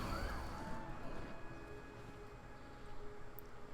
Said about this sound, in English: Kinda sound like a cop car.